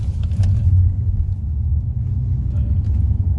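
A car engine drones steadily while climbing a winding mountain road to Doi Suthep, a low continuous rumble with slight throttle swells, close and alone without talk.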